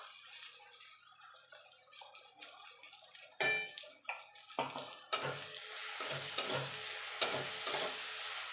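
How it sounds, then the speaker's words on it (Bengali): Fried onion with ginger, garlic and dried chilli paste is stirred in a pan for a jackfruit and prawn curry, with a steady sizzle under repeated spatula scrapes and knocks, close and clear. "এবার আদা রসুনের কাঁচা গন্ধটা যাওয়া পর্যন্ত একটু কষিয়ে নেব।"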